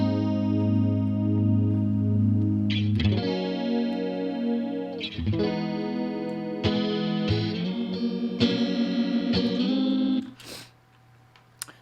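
An electric guitar runs through a chorus modulation effect in Helix Native software, playing sustained chords and notes with a shimmering, doubled, slightly wavering tone, ringing out and then fading at the end.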